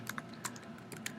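Rapid keystrokes on a computer keyboard entering a compiler command, a quick irregular run of close, crisp clicks with no talk.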